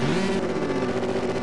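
A Jaguar F-Type R engine revs hard in the CSR2 drag racing game, a loud steady roaring drone with a fluttering pulse and no talk.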